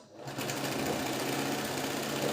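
A sewing machine stitches a princess-cut blouse, a steady, fast mechanical whirr and rattle that runs close and unbroken throughout.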